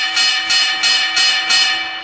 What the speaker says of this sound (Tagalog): Nag-bell na! Hindi niyo narinig!